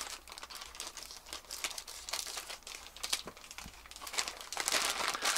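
Close, irregular crinkling and crackling of plastic packaging on a replacement brush head being handled and pulled open on a narrowboat, with sharper crunchy bursts near the end.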